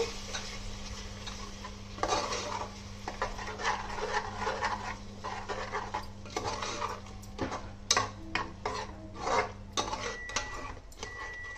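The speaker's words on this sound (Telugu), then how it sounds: "గరం మసాలా పౌడర్, కుమ్మిన్ పౌడర్ అంటే జీరా పౌడర్, ఇవన్నీ వేసేసి బాగా కలుపుకుందామండి" Garam masala and cumin powder stirred into a pan for malai egg biryani: repeated scraping and clinking of a spoon against the metal pan, close and fairly busy, over a faint low hum.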